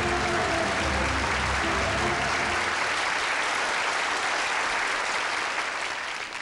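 A big studio crowd at the Iron Chef Japan Cup 2002 greets four Iron Chefs with loud, sustained applause and cheering, a dense roar that holds steady for over six seconds and eases slightly at the end.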